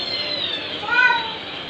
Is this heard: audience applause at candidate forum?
no